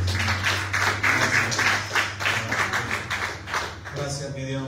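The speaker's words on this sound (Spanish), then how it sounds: "Denle un fuerte aplauso al Señor." A church congregation claps in a steady burst of applause while a voice speaks over it, with a low hum underneath and the clapping thinning out toward the end.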